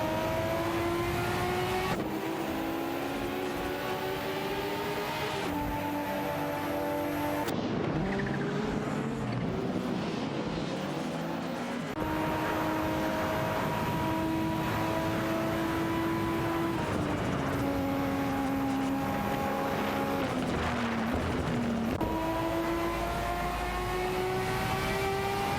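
Racing-game engines of a Ford Sierra RS500 and a Nissan Skyline GT-R R32 howl through repeated upshifts and downshifts, pitch climbing and dropping continuously, loud and close.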